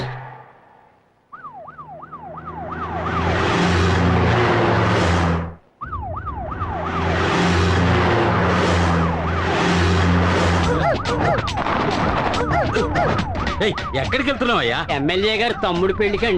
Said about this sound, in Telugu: సైరన్ సౌండ్ అండి.